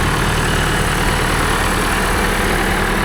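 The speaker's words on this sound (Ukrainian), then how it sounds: "Трактор працює." A tractor's loud, steady engine drones throughout on Dorado beach in the Dominican Republic, a low rumbling hum with no pauses and no voices.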